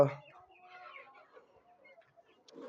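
Desi chickens cluck softly in short, faint, scattered calls, with a brief louder burst at the start and quiet pauses between.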